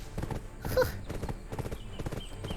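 A horse galloping in the video game Black Desert Online, with steady rhythmic hoofbeats and a brief whinny near the start, loud and close, accompanied by game background sounds.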